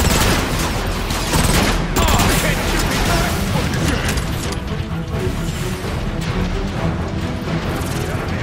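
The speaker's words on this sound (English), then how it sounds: "Rocket incoming!" Rockets and gunfire hit during a battle in the video game Transformers: Fall of Cybertron, a loud dense barrage of blasts and crashes that continues without a break. Voices are heard under the noise.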